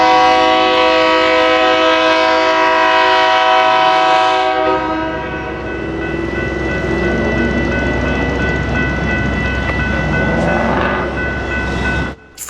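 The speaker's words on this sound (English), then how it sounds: "This is the Milwaukee District West Line with service from Elgin to Chicago Union Station." A Metra commuter train on the Milwaukee District West Line near Franklin Park blasts its multi-tone horn loudly for about four seconds, then rolls past with a steady rumble and clatter of passenger cars.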